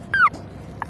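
A dog whimpers once in a short, high whine that slides downward, followed by a fainter second whimper a moment later against a quiet background.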